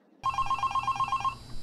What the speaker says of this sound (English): Pick it up. Pick up the phone.